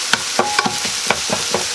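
Beef and mushroom casserole ingredients start cooking in a pan, with a broad sizzle under a few sharp stirring clatters of a utensil against the pan, close and steady.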